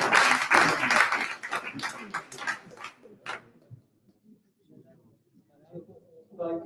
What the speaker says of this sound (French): Et je pense qu'on peut quand même vraiment les applaudir.